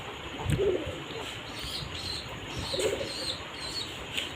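A pet pigeon coos in two short, low throaty bursts, close and moderately loud, over a steady background hiss with faint chirps.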